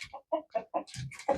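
A hen on a farm clucks in a quick series of short, close, clear clucks, ending in a slightly longer squawk.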